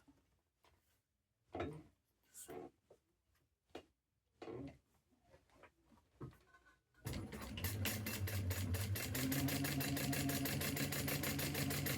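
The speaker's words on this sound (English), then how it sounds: "And then we're just going to do a top stitch along that." A sewing machine top-stitches a bag, running steadily and fast for several seconds after some scattered handling clicks and thumps, loud and close.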